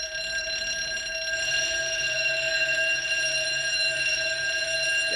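A building fire alarm rings steadily during a fire drill, a continuous high electronic tone with layered ringing harmonics, loud and unbroken for several seconds with no voices.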